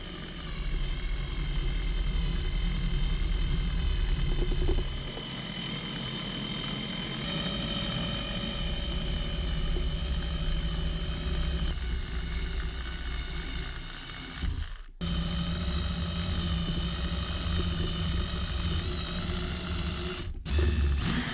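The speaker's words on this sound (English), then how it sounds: "let me go ahead and drill straight through it" A power drill grinding steadily through a metal bolt, a continuous loud whining drone with two brief dropouts where the trigger is released, no talk.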